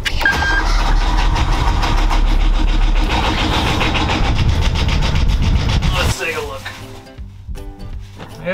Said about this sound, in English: Okay, shall we turn the engine on?